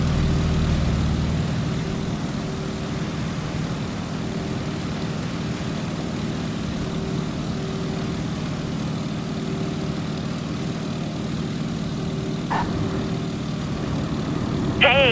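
A Stearman biplane's radial engine in a flight game drones steadily at low throttle, a continuous near hum with faint propeller beating, briefly louder at the start before settling, with a short chime-like tone near the end.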